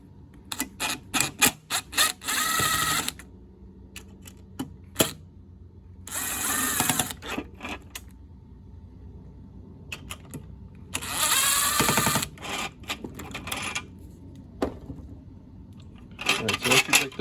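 A power driver whirs in repeated short bursts and longer runs, backing out long 3.5-inch Phillips-head screws that bolt the drive to the motor of a Pentair IntelliFlo pool pump, with quiet pauses between.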